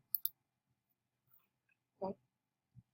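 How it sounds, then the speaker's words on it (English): Computer mouse clicks, a quick double click up front followed by a couple of softer isolated taps in an otherwise quiet room. "I'm going to go ahead and click continue."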